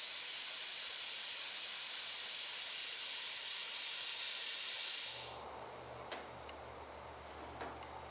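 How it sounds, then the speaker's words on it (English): An airbrush spraying paint onto a chrome emblem paint mask gives a loud, steady hiss that cuts off after about five seconds, followed by a quiet room hum and a few faint ticks. "Spraying mainly on the paint mask itself and letting the overspray go down onto"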